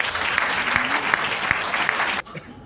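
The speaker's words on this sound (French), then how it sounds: "Nous les accompagnons avec nos acclamations." A church congregation claps steadily in a dense, even wash of applause with a few sharper individual claps, then the clapping cuts off abruptly near the end, leaving quieter room sound.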